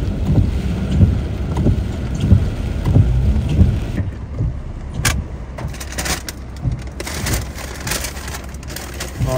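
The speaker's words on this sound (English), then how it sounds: "it's raining so hard." Dense, steady patter of heavy rain with gusty rumbling underneath, interrupted by sharp clattering hits, loud and close throughout.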